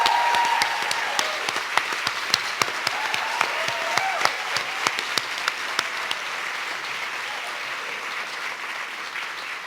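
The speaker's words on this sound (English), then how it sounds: "we really have to pump up the volume on the applause" An audience at an awards ceremony applauds in a dense, steady wash of clapping with distinct individual claps on top, easing off slightly toward the end.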